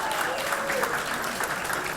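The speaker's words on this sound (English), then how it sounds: "So please give them a big round of applause" A 2016 Equality Florida gala audience in Broward applauds warmly in a brief, steady burst of many hands clapping together, fairly close and full, with no speech over it.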